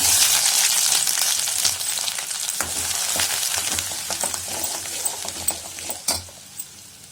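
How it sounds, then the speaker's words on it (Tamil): Chopped ginger frying in sesame oil with mustard seeds in a pan, making a continuous close sizzle with irregular clinks and stirring scrapes that thin out toward the end, with no talking. "இப்போ இஞ்சி சின்ன சின்னதாக குட்டி குட்டியாக கட் பண்ணி வச்சுக்கோங்க. அது போட்டுக்கலாம்"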